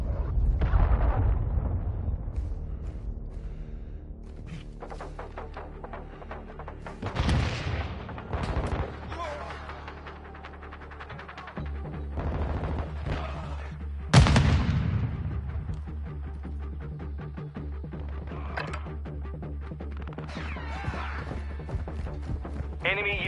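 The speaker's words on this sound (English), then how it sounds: "Hostiles launched a cruise missile." Cruise missile strikes in Warzone 2 set off deep, booming explosions at scattered moments, the loudest near the middle, over a steady rumble of distant gunfire and battle noise throughout.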